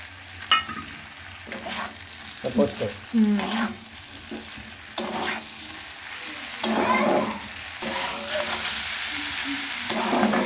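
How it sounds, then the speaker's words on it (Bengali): Poppy seeds are stirred into vegetables frying in a pan: repeated scraping strokes of a spatula over a constant sizzle, close and fairly loud, without talk. "পোস্ত দিয়ে একটু নাড়িয়ে নিই"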